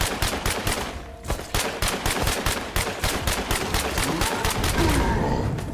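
Rapid, loud gunfire from the zombie survival video game State of Decay 2, shots cracking in a steady fast rhythm without pause throughout, close and dense.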